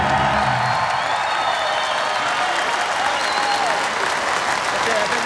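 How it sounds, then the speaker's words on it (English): Crowd applause at a university women's volleyball senior night ceremony in a Hawaii arena, loud sustained clapping with scattered cheers and whoops filling the hall throughout. "Ladies and gentlemen, one more time, a nice round of applause for Dave Shoji."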